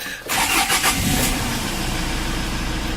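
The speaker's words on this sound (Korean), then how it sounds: "엔진 스타트." A car engine cranks and catches with a loud burst, then settles into a steady, rumbling idle close by.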